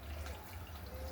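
Water poured into a pot of traditional Bhogi mixed vegetables simmering in oil, a steady close, soft liquid trickle running the whole time with no talk.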